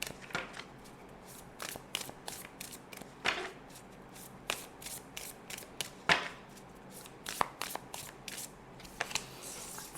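Tarot cards being shuffled before a reading, a steady series of sharp riffles and slaps repeating across the whole stretch, close up and moderately loud with no voice over it.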